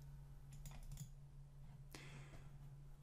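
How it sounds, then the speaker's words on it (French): Mouse clicks recorded onto an audio track for click-removal practice, a few sharp isolated ticks over a steady low hum and noise floor, faint and spaced irregularly. "Je clique pendant que je parle et je clique même quand je parle plus."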